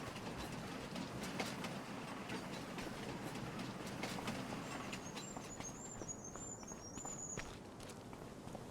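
A train in a farming video game rolls along with steady rhythmic clickety-clack and rumble, a faint squeal rising near the end, no talking.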